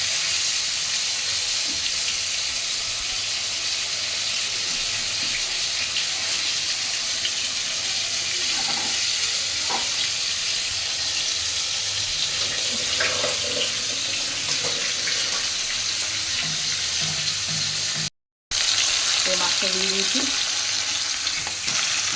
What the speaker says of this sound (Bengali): মাছটা দিয়েছি কালো জিরে ফোড়ন দিয়ে